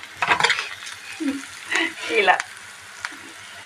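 Curry base with turmeric frying in a pan and being stirred, a soft sizzle with a few scraping stirs, under intermittent nearby talk.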